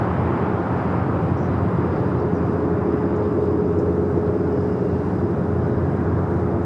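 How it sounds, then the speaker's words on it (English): A Latam Boeing 767-300ER airliner taking off at LAX, heard as a steady, loud, broadband jet roar that holds constant throughout with no speech over it. "The Latam 767 at 300 ER, the flight heading to Lima, Peru, heading down for a south side at takeoff."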